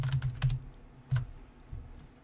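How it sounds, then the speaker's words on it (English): A password is typed on a computer keyboard in a short burst of uneven clicking keystrokes, close and distinct, with no talking. "Type in your password"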